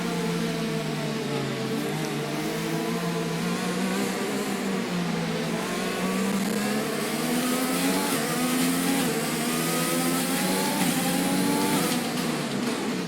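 An F1 2020 racing car engine in the video game whines steadily at high revs, continuous and loud, rising gradually as it accelerates with short-shifted gears, with no talk.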